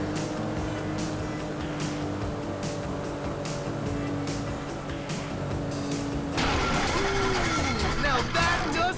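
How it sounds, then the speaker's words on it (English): A damaged car engine in GTA V grinds and sputters under steady road and tire noise, turning rougher and harsher near the end, while voices talk over the game sound. "Now that doesn't sound good. Damn, that's the engine, man."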